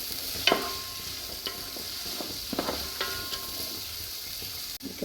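Carrot, capsicum and beans fry in a pan for paneer pulao, giving a continuous close sizzling hiss with scattered crackles and pops. A few sharp clanks of stirring break through, and no one speaks.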